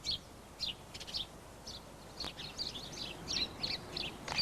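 A house sparrow in a British garden gives a series of short, bright chirps in irregular bursts, fairly close against a quiet background.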